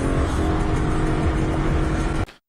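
Turbocharged sports car revving hard and accelerating during a street race, loud and close with a sustained engine roar and whir that cuts off abruptly at the end.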